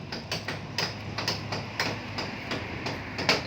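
Construction crew on the second day of an old house renovation hammering cement to set posts, giving a steady series of sharp knocks about twice a second over a low background hum.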